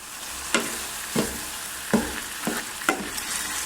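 Apple and rhubarb cooking with sugar in a pan are stirred with four distinct scraping strokes at roughly even intervals, each a short clack over a soft, constant sizzle of the syrupy fruit.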